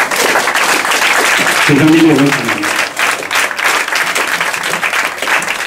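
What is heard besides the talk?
audience applause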